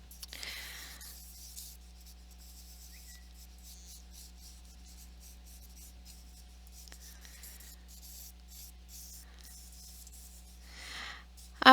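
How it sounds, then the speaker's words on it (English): Vine charcoal scratches quick, light strokes across paper to sketch a pumpkin, giving soft, intermittent close scraping with quiet pauses between the marks. "I'm using very light, quick lines to draw in my pumpkin."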